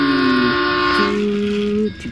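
A toy Thomas train runs along white and blue plastic track, giving a steady, close mechanical whir with tonal hum and a slight shift in pitch partway through, no talk over it.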